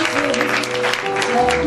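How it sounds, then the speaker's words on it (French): A church congregation at a 2017 thanksgiving celebration breaks into applause and cheering, a dense, steady wash of clapping with voices mixed in throughout. "Sous les acclamations."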